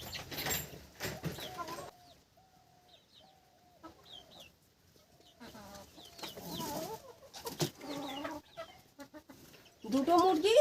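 Desi village chickens clucking close by, bursts of clucks separated by quieter pauses and short calls, ending in a louder flurry.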